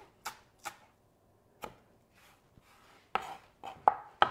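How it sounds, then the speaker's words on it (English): Knife chopping fresh herbs on a cutting board, a rough chop heard as irregular sharp taps, a few spaced cuts then a quicker cluster toward the end, close and quiet with no talking. "You want to give it a rough chop"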